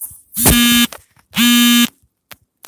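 An alarm buzzer goes off in two loud, flat, half-second blasts separated by a brief pause, close and harsh with nothing else around them.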